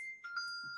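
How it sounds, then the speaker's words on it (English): A mobile phone rings with a short electronic melody of bright, sustained tones that step between pitches, heard clearly and alone for under a second. "that's my phone"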